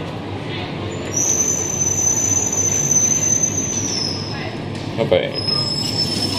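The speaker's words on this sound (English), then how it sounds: "Tram passing." A Melbourne tram rolls past close by with loud, sustained high-pitched wheel squeal over steady rumble, the squeal shifting pitch as it goes; a voice speaks briefly.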